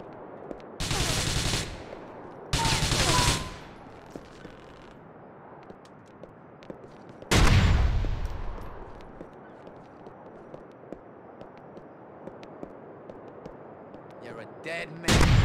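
Gunfire in the video game GTA The Ballad of Gay Tony: loud bursts of shooting in short volleys, with a heavy blast around the middle and quieter scattered clicks and game noise between.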